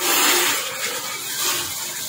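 Water gushing steadily into a paint mixing tank at a distemper paint factory, a loud continuous splashing pour that eases slightly partway through, with no talk.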